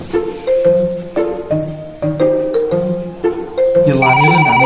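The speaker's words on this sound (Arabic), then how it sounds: "جوالي بالصالون عميران" A mobile phone ringtone plays loud and close, a repeating melodic tune of clear tones in steady rhythm, heard alone in a home with no talk over it.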